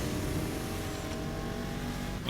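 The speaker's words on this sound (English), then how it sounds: "There's quite a few cars in this race." Crowded field of cars racing in the video game NFS Heat, with a steady, dense engine roar and tire noise held at constant loudness throughout, no voices.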